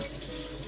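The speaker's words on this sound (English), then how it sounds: "I'm going to wash my hands and then mix this up" Water runs from a tap in a brief, steady, close rush while hands are washed in a kitchen, with no talk.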